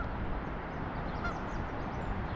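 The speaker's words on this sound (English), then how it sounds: "Oh, there's geese down here." Geese honking beside the Schuylkill River, a steady, dense outdoor wash of calls and ambient noise with no distinct individual honks standing out, moderately distant.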